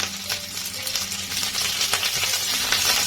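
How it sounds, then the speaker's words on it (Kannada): Mint leaves fry in hot oil in a pan for chutney, giving a steady, continuous sizzle and crackle with faint scraping stirs, close and moderately loud throughout with no talking. "ಹಾಕೊಂಡು ಪುದೀನ ಸೊಪ್ಪು ಇದನ್ನ ಸ್ವಲ್ಪ ಫ್ರೈ ಮಾಡ್ಕೊಳ್ಳೋಣ"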